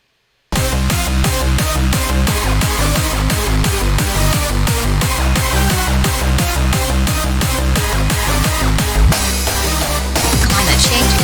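Happy hardcore track made in FL Studio, with a fast pounding kick, plucks, percussion, rides and claps all playing together, loud and continuous after a brief silent start, with a short sweep near the end.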